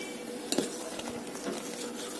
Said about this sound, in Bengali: ভালোভাবে নাড়িয়ে আরেকবার একটু ঘন করে নিচ্ছি